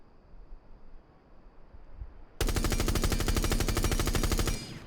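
Rapid automatic gunfire from a rifle fitted with a muzzle brake in Rainbow Six Siege: after a quiet start, a single sustained burst of fast, evenly spaced loud shots runs about two seconds and then stops abruptly.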